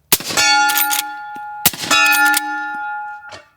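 Two loud gunshots from a suppressed modernized .45-70 lever-action rifle, each followed by a bright ringing clang as the bullet strikes a steel target, the metallic tone sustaining and fading before the second shot repeats the pattern.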